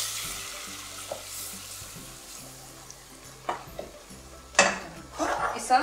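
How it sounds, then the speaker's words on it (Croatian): Flour being stirred into melted butter in a pan: soft scraping and stirring strokes with faint sizzling, building to louder clinks and scrapes of a utensil against the pan toward the end, close and alone. "Sada na otopljeni maslac idemo staviti 3 žlice oštrog brašna, pa sve skupo ovako promiješati"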